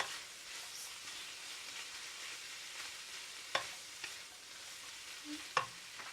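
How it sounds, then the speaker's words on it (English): Cabbage with pork and shredded carrot is stir-fried in oil in a Malaysian cooking class, giving a steady close sizzle while a utensil scrapes and stirs, with a couple of sharp knocks against the pan. "mix it well so that all your oil will get onto your cabbage"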